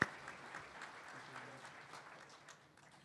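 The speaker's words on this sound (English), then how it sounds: "How about a round of applause for Jacques Duché doing an incredible job as our" Faint applause from a Hall of Fame ceremony audience for the master of ceremonies, a soft, distant patter that starts with a sharp onset and gradually fades away.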